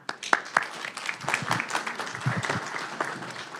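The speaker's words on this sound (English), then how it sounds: "A round of applause." A round of applause at a county board of supervisors meeting: a brief, fairly faint patter of clapping from a modest audience in a meeting room.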